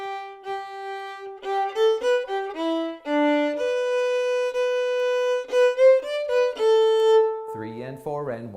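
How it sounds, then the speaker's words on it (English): Solo fiddle playing the Irish trad tune Lucy Farr's Barndance straight and unswung, with even, evenly spaced notes in a clear melodic line, close and fairly loud, with a short voiced sound near the end. "If you play them exactly as written, the tune will sound a little stiff."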